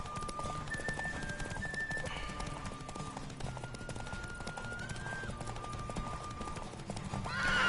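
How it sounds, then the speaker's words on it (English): A horse gallops in The Witcher 3, its hooves drumming in a steady, fast clip-clop with neighs and whinnies on top, loud and close throughout over a faint game backdrop. "Bastante complicado controlar este caballo."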